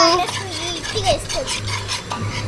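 Spoon gently stirring ginger garlic paste into a biryani masala in a pot, producing a steady scraping and clinking with soft sizzle and some background voices.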